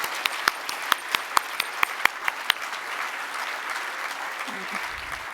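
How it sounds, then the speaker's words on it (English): An audience at a cultural diversity awards ceremony claps for the event's partners, a sustained crowd applause with several loud, close individual claps standing out in a steady rhythm early on, before a voice briefly speaks at the end. "and I want to do a clap for them."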